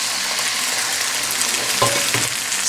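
Beaten eggs hitting a pan of half-cooked vegetables, sausages and white rice, frying with a steady close sizzle while a spatula stirs, with a brief sharper scrape and splash near the end.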